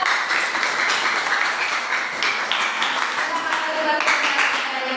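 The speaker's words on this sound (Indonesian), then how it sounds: "Beri tepuk tangan untuk kelompok 4." A classroom applauds group 4 after a maths lesson on matrix determinants and inverses, steady close clapping from many students that carries through without a break.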